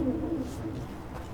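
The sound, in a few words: ghost owl hooting in video game Dragon Age Veilguard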